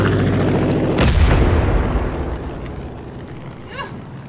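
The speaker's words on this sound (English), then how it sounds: "Bombs away!" A heavy bomb explosion in Far Cry 5 erupts with a deep, rumbling boom that swells and then slowly decays, followed by a faint high whistle near the end; no one speaks.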